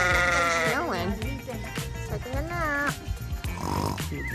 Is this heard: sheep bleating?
yes